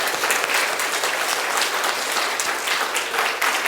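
A church congregation claps together in thanks to God, a dense and loud burst of applause that carries on steadily from start to finish, with no talking over it.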